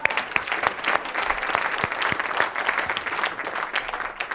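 Audience applause at a talk, crisp, busy clapping with some individual sharp claps standing out, steady throughout.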